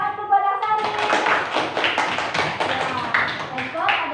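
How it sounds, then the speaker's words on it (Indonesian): Classmates clap in a classroom for a student named Asari, a burst of close, uneven hand claps following a teacher's voice at the start, with speech mixed in. "Tepuk tangan untuk buat Asari."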